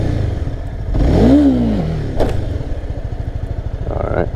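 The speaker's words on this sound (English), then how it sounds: "I'm having those false starts when I'm trying to lift it up and just revving it really too high" A Honda CBR300 motorcycle engine idles with a fast putter, then revs up sharply once and drops back to a rough, chugging idle, loud and close.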